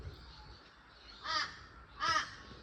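A crow caws twice outdoors, two harsh, fairly close calls about a second apart against quiet background hiss.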